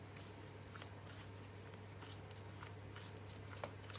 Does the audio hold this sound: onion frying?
no